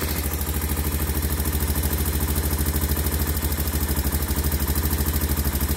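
A 1986 Honda 350 Fourtrax 4x4 ATV, left unstarted for fifteen years, idles steadily with an even, close, mechanical chugging and clatter that holds the same pulse throughout.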